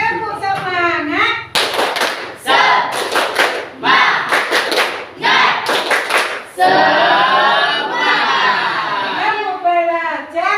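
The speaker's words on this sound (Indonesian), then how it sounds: "Tepuk semangat." A classroom of children performs a rhythmic spirit clap, bursts of group hand claps in a patterned beat mixed with chanting voices and a teacher's talk at start and end.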